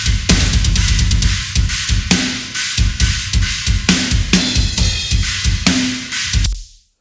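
Bass drum and snares in a full drum mix hit in a steady, punchy groove, loud and close, with cymbal wash over the top until the sound stops abruptly.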